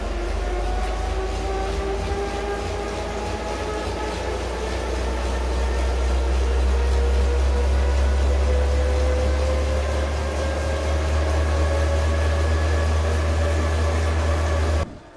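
Elite Drivo II smart trainer under a sprint effort, a loud steady mechanical whir with rising tones as speed builds, constant low rumble, cutting off abruptly near the end.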